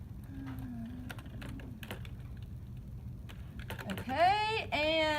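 Fast bursts of typing on a computer keyboard while entering a quadratic function into Desmos, scattered clicks over a steady background hum, with a voice briefly rising toward the end.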